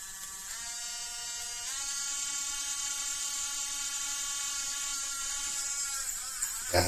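A rechargeable mini rotary tool grinder whines at high speed, a steady buzzing whir with harmonic overtones that shifts pitch slightly as the load changes, close and alone.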